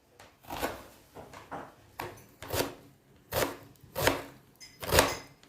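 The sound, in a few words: chopping onions into small pieces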